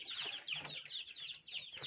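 About ten young quail chicks peep constantly in high, quick chirps, overlapping and fairly close, with soft rustling beneath.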